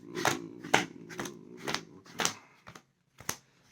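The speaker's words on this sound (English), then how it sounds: "Let's go ahead and power shuffle these things" Playing cards are riffled in quick bursts, a rapid series of sharp flutters and snaps that grow sparser toward the end.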